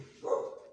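A single short, muffled bark from a dog, faint and somewhat distant, in an otherwise quiet room.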